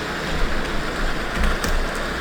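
Steady rain pours in the video game GTA V, a dense, even hiss of falling water with faint drop patter, continuous and close throughout with no voices.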